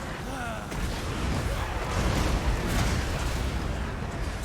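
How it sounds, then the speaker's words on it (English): A dense, continuous rumble of explosions and cannon fire from a Total War: Warhammer II battle with Vampire Coast artillery, forming a loud, steady roar with small secondary blasts layered throughout. "look at all those mini sub-explosions"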